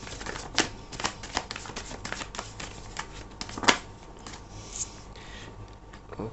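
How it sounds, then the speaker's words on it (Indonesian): A tarot card drawn from a deck, giving a run of soft, quick papery flicks and slides with one sharper snap partway through, close and quiet, with no voice. "kita akan ambil 1 kartu lagi ya."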